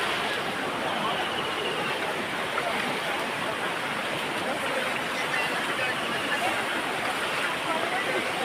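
A river rushes near Palasdari waterfall in Karjat, a steady, dense roar of flowing water that fills the whole stretch without pause or change.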